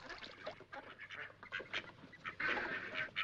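Many ducks quack in a dense, overlapping chorus, a flock calling continuously at moderate loudness, from a classic slapstick comedy short about medieval knights.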